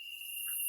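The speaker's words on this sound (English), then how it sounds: "Those are cicadas, and they are very loud." Cicadas sing in a Costa Rican summer: a loud, steady, high-pitched electric buzz drones on without a break for the whole short stretch.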